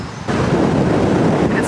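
Strong wind gusts buffet the microphone outdoors in a Glasgow cemetery, producing a steady, loud rumbling roar that fills the whole moment without letup.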